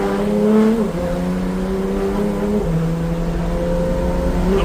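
A BMW E30 fitted with a DCT transmission accelerates under light throttle, its engine note climbing steadily in pitch with a brief dip at each quick gear change, loud and continuous from inside the car.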